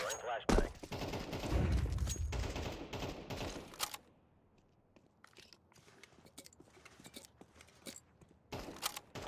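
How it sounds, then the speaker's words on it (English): A flashbang grenade in the Counter-Strike 2 video game goes off amid a burst of loud, sharp cracks and gunfire for about four seconds, then quieter clicks and scattered bangs follow, with occasional sharp hits near the end. "Throwing flashbang."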